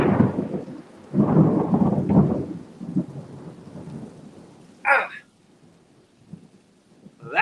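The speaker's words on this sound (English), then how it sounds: "that's the kind of storm I remember as a kid" Thunder rolls through a thunderstorm beside a porch, a long deep rumble followed by fainter grumbles, with rain pattering underneath and a man briefly exclaiming.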